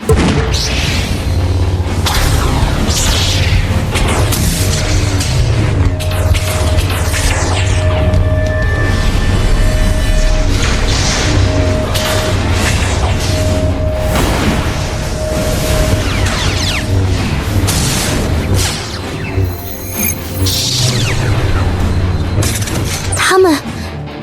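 Mech army firing in a sci-fi battle scene: a dense, continuous roar of booming artillery, blasts and shattering impacts, loud and close, with heavy low rumble throughout and occasional voices mixed into the barrage.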